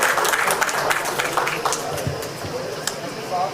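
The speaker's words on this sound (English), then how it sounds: "Let's have a huge round of applause for Dr. Neha Sharma, ladies and gentlemen, as she has joined us on stage." An audience at a business conference on globalization claps as a speaker joins the stage. The applause is moderately loud and fairly steady, with some scattered sharper claps and murmuring voices mixed in.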